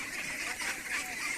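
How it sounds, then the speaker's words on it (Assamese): A flock of ducks on a large duck farm gives a faint, continuous chorus of quacking and honking in the distance. "হাঁহবিলাক চাওক কিমান হাঁহ"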